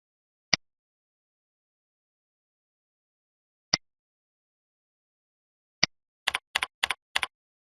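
Computer keyboard keys pressed while entering membership details into an online form: three isolated taps spaced seconds apart, then a quick cluster of four or five keystrokes near the end, crisp and close in an otherwise silent room.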